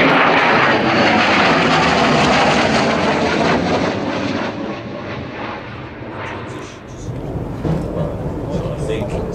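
A fixed-wing display aircraft roars loudly through a slow, high-G turn at the 2014 Farnborough airshow, its engine noise gradually easing and shifting, with a commentator talking over it.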